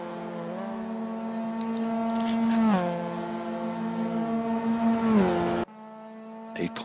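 Mazda MX5 race cars lapping Snetterton circuit, engines revving loud and close with rising and falling pitch as they pass and shift gears, then another car approaches after an abrupt cut.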